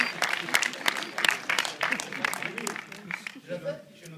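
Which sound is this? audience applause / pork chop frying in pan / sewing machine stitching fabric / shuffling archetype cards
audience applause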